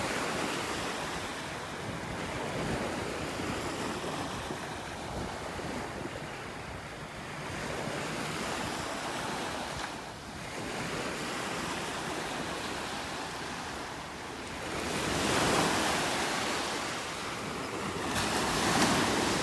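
Ocean surf washing onto a beach in North Naples, Florida, on a cloudy day with churned-up water, a steady broad roar of breaking waves, swelling louder near the end, with wind buffeting the microphone and no voices.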